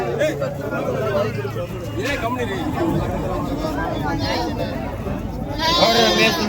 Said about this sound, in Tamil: இல்லை, செம்மறி கிடா தாங்க.